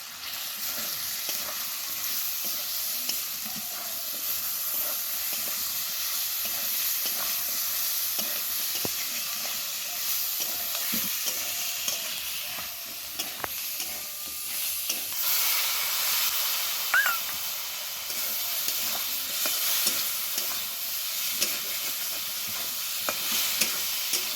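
Potatoes with salt and ground cumin, coriander, turmeric and garam masala are stir-fried in a pan for a vegetarian fig and potato dish, giving a continuous sizzle and hiss with scraping spatula strokes, louder toward the end.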